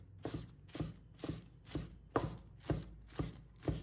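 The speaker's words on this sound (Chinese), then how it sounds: "把它切成葱花" Knife chopping spring onion leaves into scallion pieces on a cutting board, seven or eight crisp, evenly spaced thuds, close and clear.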